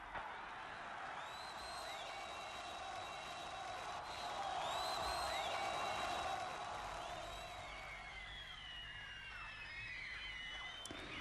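Rapturous concert crowd ovation as a singer comes on stage during his March 1974 tour, a broad roar of cheering and whoops from a large arena audience that swells midway and stays dense throughout.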